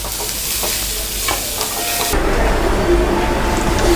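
Beetroot frying with onion and green chilli in a pan gives a steady, close sizzle with occasional stirring scrapes, growing slightly louder partway through.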